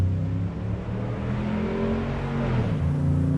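A car passes by on a road next to a backyard, a steady close engine whir that swells slightly toward the end, heard alone.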